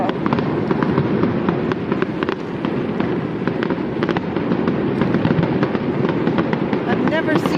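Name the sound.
fireworks exploding over a riverside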